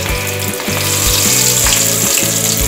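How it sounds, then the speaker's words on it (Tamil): Fish frying in hot oil in a pan for a Kerala-style fish roast, a loud steady sizzle with rhythmic low clatter as pieces shift, close and alone with no talk. "நம்ம ஒரு பாத்திரத்தை எடுத்து ஆயிலை ஊற்றி அடுப்பில் வச்சு நம்ம மீனை வறுக்க வேண்டியதுதான்"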